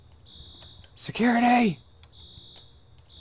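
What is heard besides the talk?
alarm ringing in the video game Infra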